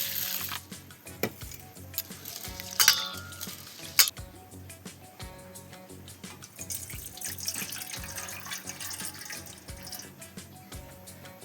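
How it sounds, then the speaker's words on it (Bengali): Water splashing and trickling as lentils (dal) are rinsed in a bowl at a kitchen sink, with a steady running-tap wash, scattered drips and a few louder splashes near two and four seconds, close and continuous. "ডালটা ভালো করে ধুয়ে নেবো"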